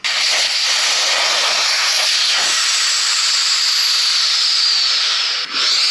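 Compressed air hissing out of a CT200U mini bike tire with the valve core removed, a loud, steady, close rushing hiss that holds for several seconds before dipping briefly near the end.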